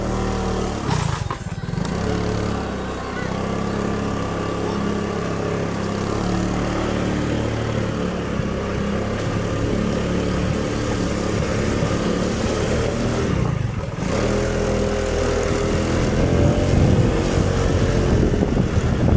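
An SYM motorcycle engine runs steadily and loudly throughout during a break-in ride, a continuous droning rumble with a brief dip near the start and middle.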